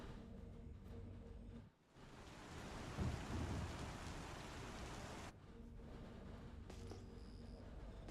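Steady rain pours on surfaces as thunder rumbles and swells in the middle, the downpour dense and enveloping throughout, with no voices.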